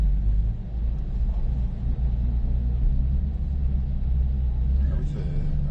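A Porsche 718 Cayman GT4 RS idles with a steady, loud low-frequency rumble on a circuit, the engine note holding throughout with only a slight stir near the end and no clear pull away.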